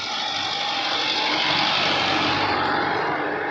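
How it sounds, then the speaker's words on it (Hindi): Loaded tractor approaching on a narrow muddy road, heard as a steady, loud engine drone with broad rumbling noise throughout, no voices. "अरे सामने से लोडेड ट्रैक्टर आ रहा है।"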